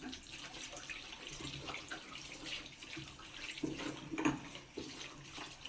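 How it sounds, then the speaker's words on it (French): Tap water runs steadily while someone rinses exfoliant off their face at a sink, with soft splashing bursts near the end. No one speaks. "Donc maintenant, je vais rincer."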